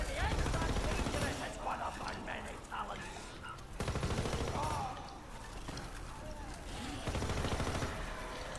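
Call of Duty zombies gunfire on the Darkest Shore map comes in dense, rapid automatic bursts, loud and sustained with brief pauses between volleys.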